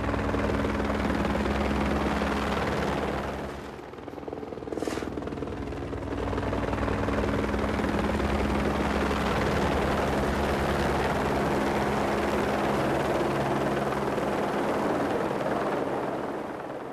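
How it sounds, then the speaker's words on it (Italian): A helicopter hauls away tons of earth and rock at the top of Mont Saint-Michel, its rotor droning loud and steady, dipping briefly before returning at full strength. "Tonnellate di terra e roccia vengono rimosse dall'elicottero"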